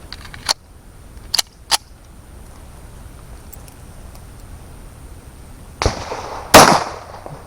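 A 200-grain .45 ACP handload is fired over a chronograph at a shooting setup. A few sharp reports, each closely followed by another, crack out amid faint background noise, ending with a louder pair of blasts.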